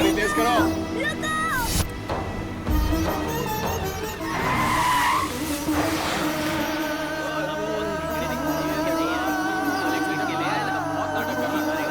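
A car speeds along with tires skidding and squealing amid a tense film chase scene, engine and tire noise layered under shouting voices and dramatic music throughout.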